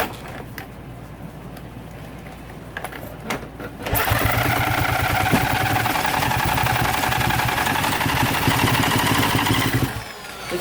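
A Kawasaki KX250F dirt bike engine being diagnosed for a fuel-pump fault first clicks and cranks faintly, then catches and runs at a steady close idle for about six seconds before cutting off.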